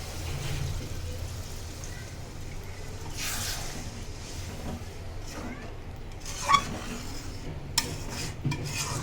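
Spiced potatoes being stirred in a cooking pan: a faint, steady scraping and rubbing with a few soft clinks of a utensil against metal, under a low background hum.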